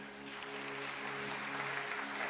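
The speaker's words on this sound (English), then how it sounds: "clap your hands for the children" Church congregation at a Resurrection Sunday service clapping for the children, a continuous steady burst of applause that swells slightly toward the end, with a low hum beneath.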